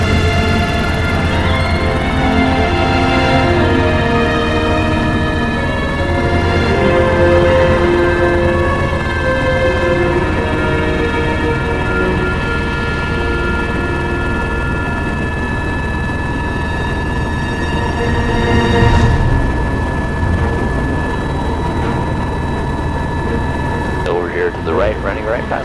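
A Grand Canyon tour helicopter from Maverick Air drones with a constant engine whine and rotor rumble inside the cabin, loud and steady, while a voice talks over it.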